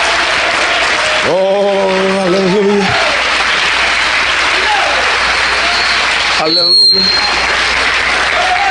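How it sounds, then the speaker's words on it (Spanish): A church congregation claps loudly during a Holy Week service, continuous clapping running under a voice calling out in Spanish twice. "Denle un aplauso fuerte al Señor, aleluya."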